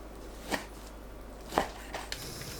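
Pork belly sliced into 1 cm pieces with a knife on a board, giving three or four sparse, sharp chops spread over a quiet background with no talk.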